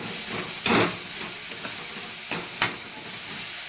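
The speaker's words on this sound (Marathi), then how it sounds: "मस्त त्याला परतून घ्यायचं" Constant hissing sizzle of vegetables with salt stir-frying in a hot pan, broken by two sharp scraping stirs, steady and fairly close with no talking.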